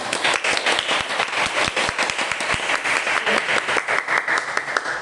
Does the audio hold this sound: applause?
yes